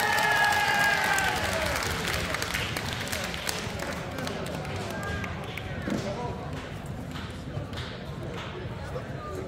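Applause and crowd noise at a table tennis tournament prize draw, a dense patter of clapping filling the hall, fairly loud at first and easing slightly, with voices mixed in.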